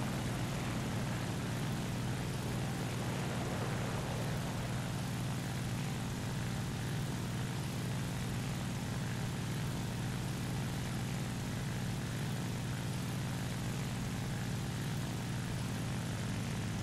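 Propeller engine of an FW 190 A-5 fighter in War Thunder, a constant loud droning roar with a deep low hum, steady throughout with no voices.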